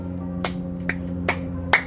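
Four sharp hand claps spaced about half a second apart, each a short broadband crack over a steady low hum, close and fairly loud with no talking.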